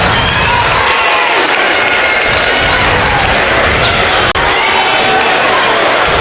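A packed gym crowd at a high school regional final basketball game roars and cheers steadily and loudly throughout, with a single sharp thump near the end and talk mixed into the din.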